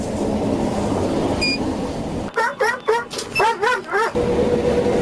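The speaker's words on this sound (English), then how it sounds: "Now you heard the dog barking" A dog barks in a quick series of sharp, fairly close barks, five or six in a cluster after a stretch of muffled talk and noise.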